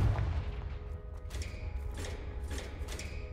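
A Confringo spell cast in Hogwarts Legacy, a fiery blasting hex: several sharp bursting impacts with bright crackling tails land about half a second apart over a low rumble, with no talking.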